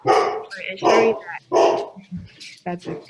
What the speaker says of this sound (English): So Sorry, that's my dog.